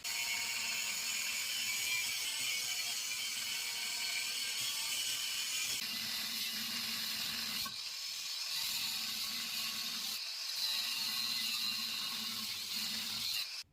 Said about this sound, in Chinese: 现在就用角磨机开切，沿着焊接线